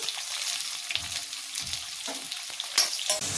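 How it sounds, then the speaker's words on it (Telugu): Thinly sliced onions sizzle in hot oil with whole spices in a pan for biryani, a steady crackling fry punctuated by a few soft stirring scrapes and clinks. "అవి కొంచెం ఫ్రై అయ్యాక సన్నగా పొడిగా కట్ చేసుకున్న ఉల్లిపాయ కొంచెం ఫ్రై అవ్వాలి"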